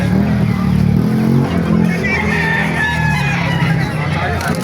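Chickens at a poultry market in Baliuag, Bulacan, with clucking and crowing mixed into a loud, busy crowd and nearby vehicle noise, and people talking throughout.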